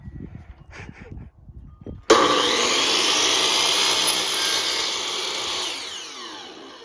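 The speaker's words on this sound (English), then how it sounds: "Using my miter saw to cut it, and it cuts a really nice straight line" A miter saw spins up abruptly and cuts through a peel-and-stick wood plank, a loud sustained whine that slowly winds down, following a couple of seconds of quieter handling noises.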